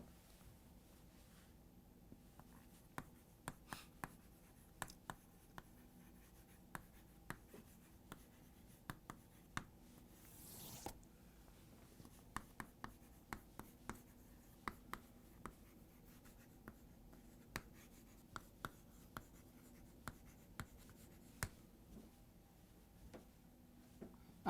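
Pen on paper during a financial accounting lesson, writing out transaction entries: faint scratching strokes and light taps over a quiet room hum, irregular and close, with no talking.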